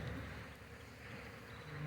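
Honey bees buzz steadily around an open hive frame, forming a continuous, moderately close insect drone with a faint low rumble beneath it.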